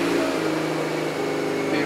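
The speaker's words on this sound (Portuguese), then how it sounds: "Pede para tentar ligar o motor." A Fiat Strada engine with a dry fuel distributor runs as a steady, loud motor drone with a low hum throughout, no clear cranking start, just a continuous idle.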